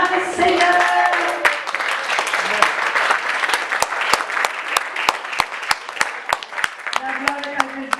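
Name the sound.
church congregation applauding to acclaim the Lord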